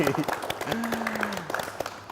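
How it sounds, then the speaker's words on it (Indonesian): Studio audience clapping at a Honda Safety Center in Cikarang during an automotive show, a brief dense patter of hands with voices talking over it. "Tepuk tangan dulu dong, biar rame."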